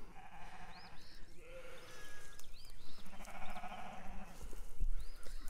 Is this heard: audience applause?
no